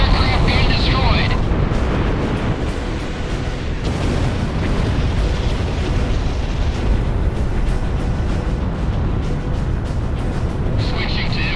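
A sustained, loud explosion rumble as an anti-aircraft gun is destroyed in the video game Ace Combat 6, a broad continuous roar lasting several seconds with radio-style voices talking over it.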